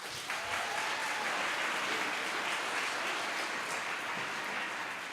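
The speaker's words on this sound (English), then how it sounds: "Let's give them a last round of applause." A school assembly audience claps in sustained, dense applause that holds steady and fairly loud for the full stretch, with no talking over it.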